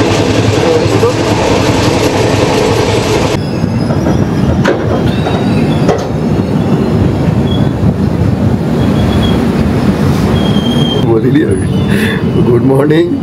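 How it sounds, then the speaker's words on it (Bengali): A train between Kolkata and NJP runs toward Barsoi Junction with a loud, continuous rolling rumble heard from onboard, while wheels squeal and rails clatter throughout. "ট্রেন কিন্তু আর কিছুক্ষণের মধ্যেই পৌঁছে যাবে বারাসই জংশন"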